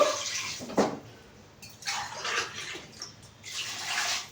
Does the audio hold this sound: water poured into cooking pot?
yes